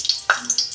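Dry chilli, cinnamon and cardamom dropped into hot oil in a kadai, a short burst of sharp sizzling crackles and spits, close and fairly loud, with no talk.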